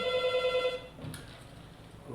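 A telephone rings at a military fire brigade emergency line in Caxias, one loud electronic trill lasting under a second before it cuts off, leaving a quiet room with faint handling noise.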